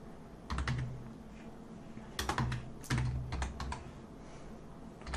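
Typing on a computer keyboard in short bursts of quick clicks separated by brief pauses, entering a single word, close and fairly quiet with no talk.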